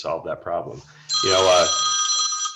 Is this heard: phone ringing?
yes